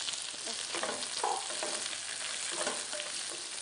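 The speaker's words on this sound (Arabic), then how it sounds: "هلا احنا بنشوح برضو البصل" Onions and carrots sautéing in fat left over from cooked meat, for a creamy meat tagine: a steady close sizzle with a few soft stirring scrapes, no talking.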